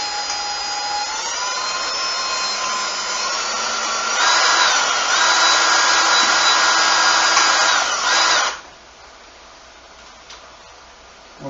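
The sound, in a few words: power drill drilling a hole in a stripped screw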